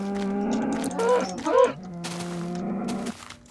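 Minecraft cows mooing, a couple of long low moos close by, one after another, the second with a groaning rise, alone without talk.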